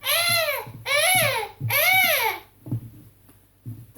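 A human voice imitating a dying seagull: three loud, drawn-out wailing squawks with bending pitch, each about half a second, close to the microphone, followed by softer breathy sounds.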